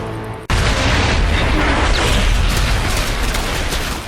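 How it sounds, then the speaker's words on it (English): Huge explosion as a gun cannon is destroyed in StarCraft II: Heart of the Swarm, an abrupt loud blast after a brief quieter moment, followed by a sustained roaring rumble that fills the rest of the clip without talk. "The gun is destroyed!"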